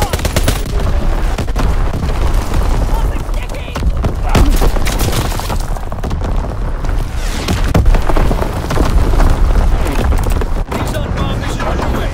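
Artillery barrage in Call of Duty WWII team deathmatch on the Shipment 1944 map, a dense, loud stream of booming blasts and gunfire layered together continuously, with game voices speaking over the battle.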